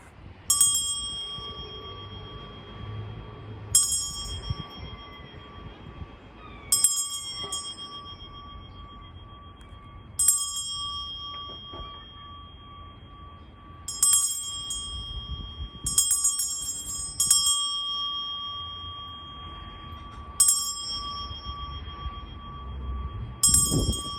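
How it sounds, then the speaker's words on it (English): A bright metallic bell rung repeatedly at irregular intervals, each strike ringing out with a long sustained tone that lingers between hits. "I clear the sound with this bell"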